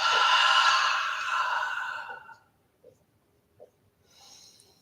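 A single long, breathy exhale, fairly close and clear, that fades out over about two seconds. A couple of soft clicks and then a quieter breath follow.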